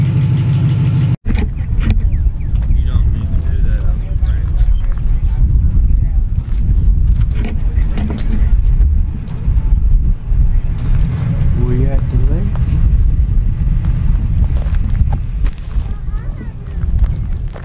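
An outboard motor on a fishing boat, out on cold water, runs with a low, steady rumble throughout, while people talk over it.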